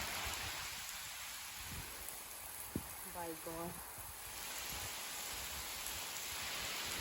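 Heavy monsoon-style rain pours steadily outdoors as a dense, continuous hiss throughout, with a brief spoken exclamation midway over the downpour.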